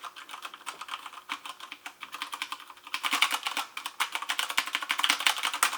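Rapid, continuous keystrokes on a Corsair Strafe RGB mechanical keyboard with Cherry MX Brown switches, keys bottoming out with dull clacks that grow louder and denser in the second half, no other sounds.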